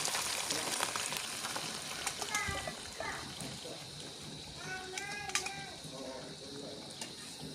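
Steady crackling and sizzling of spicy country chicken frying in oil, continuous throughout, with a voice and other chatter faintly over it.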